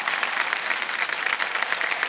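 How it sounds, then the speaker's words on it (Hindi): Studio audience on the Kaun Banega Crorepati quiz show claps for winners Akshay, Katrina and Rohit, a dense, even wash of many hands applauding without pause. "तालियां बज जाएं इनके लिए।"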